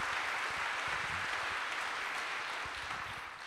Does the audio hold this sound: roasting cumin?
no